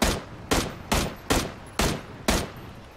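Six sharp gunshots in PlayerUnknown's Battlegrounds, evenly spaced about half a second apart, each a loud crack with a short decaying tail, heard alone without talk.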